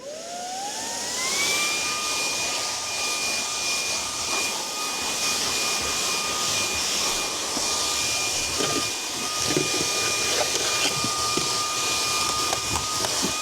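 A cordless vacuum powered by a DeWalt 20V battery spins up and runs on high, its motor whine rising in pitch over the first two seconds and then holding a steady, loud tone with rushing airflow and some rattling debris.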